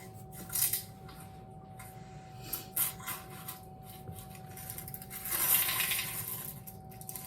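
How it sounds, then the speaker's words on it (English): Chocolate chip blondie dough folded in a bowl, with soft scraping and clinking of a utensil against the bowl in irregular strokes, quiet and close, with a longer swirl of scraping near the end. "all we want to do is mix a couple of mixes until the chocolate chips are mixed"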